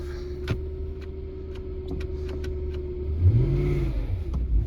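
The engine of a 2009 Lexus LS 460L with a failing transmission idles with a steady hum, then revs up and climbs in pitch toward the end, heard close up.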